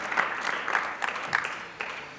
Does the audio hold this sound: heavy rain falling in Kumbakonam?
no